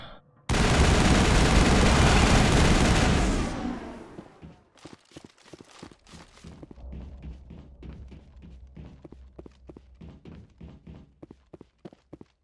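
Assault rifle gunfire in Mass Effect, a loud sustained burst of rapid automatic fire for a few seconds, then scattered single shots and thuds continuing at a lower level.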